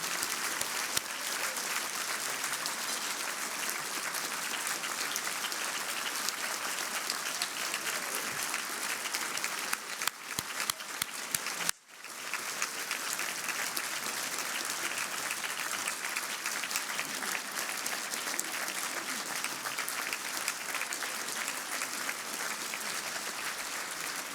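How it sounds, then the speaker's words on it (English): Long, steady round of applause from a large audience at a UCLA anniversary celebration, dense even clapping held for over twenty seconds with a brief dip midway before resuming. "So if we could have a round of applause for those extraordinary women."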